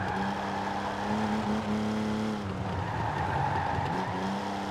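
A race car in Forza Horizon 4 revs its engine to 8,500 rpm, a loud sustained engine howl that climbs and eases across several seconds, with rising harmonics and tire noise beneath it.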